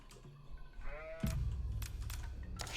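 A sheep in the real-time strategy game Age of Empires IV gives a single wavering bleat, followed by busy in-game clicks and ambient noise.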